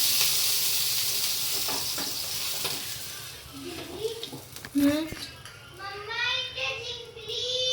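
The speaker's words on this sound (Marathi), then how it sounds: "आता हे बघा सेकंड डोसा टाकून दाखवलं मला" Dosa batter poured on a fully heated tawa gives off a steady, bright sizzling hiss at the start, which then softens as people talk over it.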